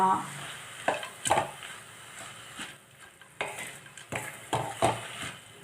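Drumstick (moringa) leaves sizzle and crackle in a hot pan, with intermittent scraping and stirring clatter from a utensil against the metal.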